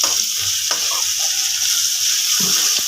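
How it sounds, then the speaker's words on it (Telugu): Amaranth leaves fry with garlic in a pan, giving a loud, continuous sizzle with stirring scrapes and clatter. "ఇప్పుడు తోటకూర వేసుకుందాం"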